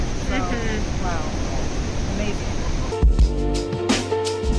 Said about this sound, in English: I never saw this giant waterfall in my life.